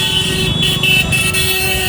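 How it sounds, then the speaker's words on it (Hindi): A car horn honks amid loud street traffic noise in Ayodhya, India, a short blaring toot over the rumble of vehicles. "आपको हॉर्न बजाते हुए लोग हर जगह मिल जाएंगे।"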